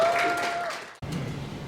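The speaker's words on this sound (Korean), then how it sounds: "앞으로 나오실 때 큰 박수 부탁드리도록 하겠습니다." Brief burst of audience applause at a 2023 members' general assembly of a Korean civic organisation, a steady patter that dips for an instant, then resumes at a similar moderate level.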